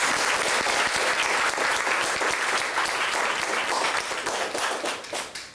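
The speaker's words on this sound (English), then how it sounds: "let's clap it up for them." Audience applause at a live foods community event, a loud, dense crowd clapping that holds steady before thinning toward the end.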